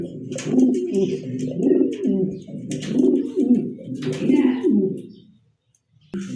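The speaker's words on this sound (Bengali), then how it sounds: "এখানে কিন্তু আরেক জোড়া কবুতর মহব্বতে বৈশ আছে" A pair of mukhi pigeons in a seller's coop coo close by in steady, rolling phrases, repeating over and over before a brief pause near the end.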